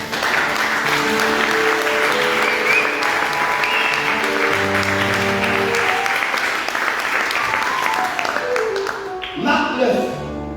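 A church congregation at a seminary applauds as an offering of acclamation, its clapping and crowd noise joined by sustained tonal music beneath. Near the end the sound thins out as the music shifts.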